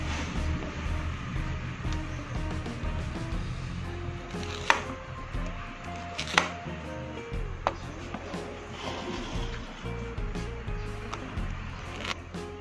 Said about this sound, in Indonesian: Kita potong buah pisangnya seperti ini.